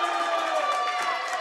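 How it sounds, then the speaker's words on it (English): Crowd at a grappling fight cheers and roars steadily after a neck-crank submission tap, a dense, loud wash of voices throughout. "Crowd is loving it."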